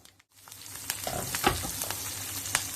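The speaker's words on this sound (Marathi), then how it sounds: "मोहरी घालायची, मोहरी तडतडली की हिंग घालायचं थोडंसं" Mustard seeds splutter in hot oil in an iron kadhai, a steady close sizzle broken by sharp irregular crackles and pops, with no voices.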